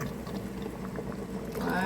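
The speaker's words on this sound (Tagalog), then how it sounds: "So, maglalagay na po tayo ng tubig para po mag-pressure cooker na tayo." Water poured into a pressure cooker while cooking beef strips in tomato sauce, a steady close splashing flow that swells toward the end, with no talk over it.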